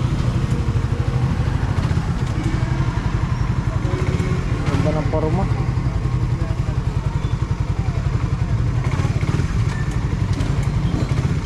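A motorcycle engine idles steadily with a rapid, even clatter throughout, close and loud, while people talk over it outside a church.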